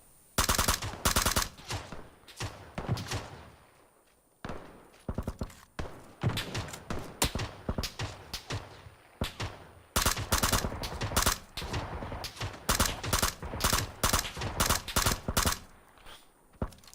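Rapid bursts of M416 assault rifle fire in a shooter video game, repeated volleys and single shots spread across the stretch, loud and close, with short quiet gaps between engagements.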